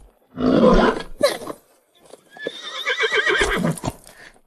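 A horse neighs loudly and close, a harsh drawn-out whinny, followed by a second longer whinny after a brief pause; hoofbeats are not clearly distinct.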